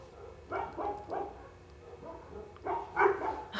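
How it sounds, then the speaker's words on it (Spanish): Several dogs bark in scattered bursts indoors, moderately faint, with short gaps between clusters of barks and a louder flurry near the end; no one speaks. "Ay, perritos, por favor, cállense."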